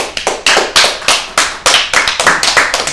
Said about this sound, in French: Et puis, maintenant, on peut s'applaudir.